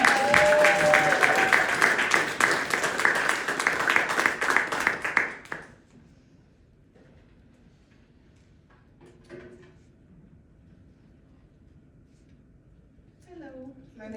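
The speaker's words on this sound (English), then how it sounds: "Please put your hands together for Georgette Walker." Audience at a storytelling and poetry open mic in Princeton applauding a poet, several seconds of loud clapping that stops abruptly, followed by quiet room noise and faint shuffling.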